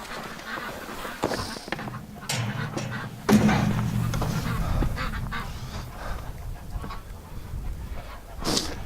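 Muffled duck quacks and honking chatter come from inside a barn in winter, a steady agitated flock sound with occasional louder calls.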